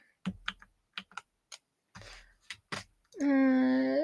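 Keyboard typing during a livestream, a scatter of separate key clicks and short bursts over about three seconds, close and fairly quiet, ending in a sustained tonal hum or voice-like drone with no talk.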